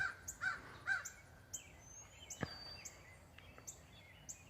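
Several crow caws sound near bird feeders, loud and clear over a quiet outdoor background, with fainter small-bird chirps scattered throughout.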